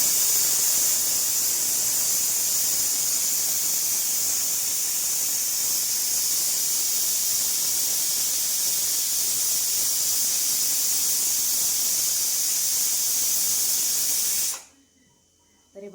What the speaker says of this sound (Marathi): तरी बघा शिट्टी पण मस्त व्यवस्थित झाली आणि कुकर पण छान आहे.